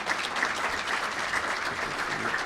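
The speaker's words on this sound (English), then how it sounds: "let's give them a round of applause" An audience at a Minneapolis Public Schools equity and diversity presentation claps steadily in a dense, even wash of applause that lasts throughout. It sounds moderately close, and no one speaks over it.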